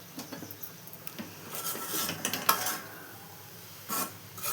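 A spoon scraping and stirring ravva laddu mixture in a pan, soft rasping strokes at uneven intervals with a few brief clinks, quiet and close.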